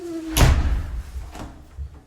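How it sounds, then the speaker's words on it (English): An interior door in a brand-new house swings shut with a single firm thud and latch click, followed by a fainter knock a second later in a quiet room. "So let's close the door."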